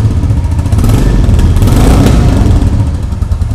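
Loud, close 2023 Royal Enfield Classic 350 motorcycle engine running with a deep, throbbing idle rumble, steady throughout with no talking.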